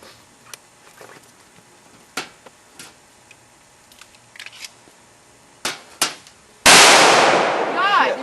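Handgun shots ring out at a morning shooting practice with .357, .45 ACP and .22LR guns, several sharp cracks spaced irregularly, with one loud, close report near the end, amid faint background activity.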